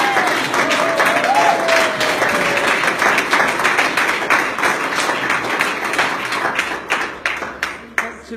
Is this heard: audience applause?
yes